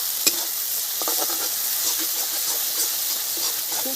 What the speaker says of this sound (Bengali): মশলাটা একদম খুব সুন্দর করে কষে নিয়েছি